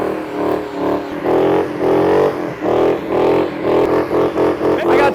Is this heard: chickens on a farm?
no